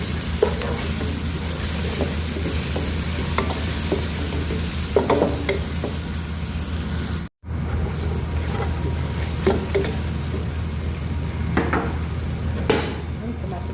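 Minced garlic and ginger fry in a pan for red lentil soup, sizzling steadily while a spoon stirs them with scattered scraping knocks and a short break midway.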